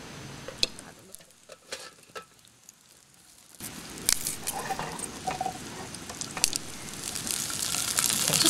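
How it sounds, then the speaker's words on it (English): Asparagus stir-fried in a pan, a quiet stretch of scraping and stirring that turns into a steady, louder sizzle with sharp spatter crackles and utensil clicks, close up. "I need to stir fry some asparagus."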